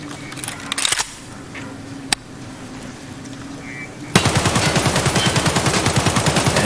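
AK-74M rifle fired from a crouch in Escape From Tarkov: a few separate shots and clicks at first, then a sustained full-auto burst of evenly spaced, loud rapid shots.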